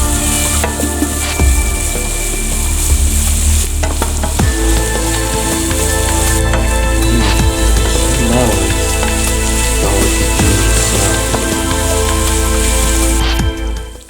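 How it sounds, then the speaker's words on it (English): Garlic and ginger sauteing in a pan for gluten-free, dairy-free butter chicken, a loud, close, continuous sizzle with occasional stirring clinks and scrapes over a steady hum. "Add garlic and ginger and saute for about 1 minute until it becomes very fragrant."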